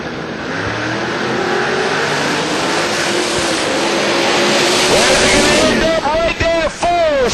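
Twin turbo and ProCharger drag race cars roar down the strip side by side, a loud sustained engine blast building toward the end, with a race announcer talking over it.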